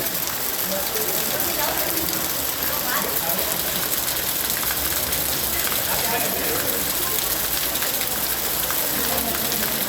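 Heavy downpour pounding a flooded street, a dense, steady roar of rain that fills the whole stretch without letup, with a faint engine rumble and scattered voices beneath it.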